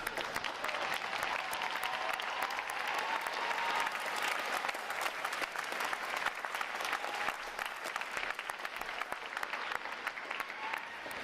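Large crowd applauding the veterans at a U.S. Navy boot camp graduation ceremony, a steady dense roar of clapping that holds evenly from start to finish with no voices over it.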